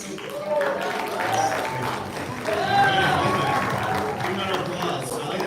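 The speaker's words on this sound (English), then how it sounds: "an applause." An audience at a crypto builders' gathering in India applauds steadily in a dense wash of clapping, mixed with voices and chatter throughout.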